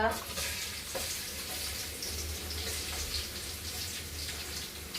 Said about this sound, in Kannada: ಜೀರಿಗೆ ಸಾಸ್ಮಿ ಚಟಪಟ ಆದ್ಮ್ಯಾಗ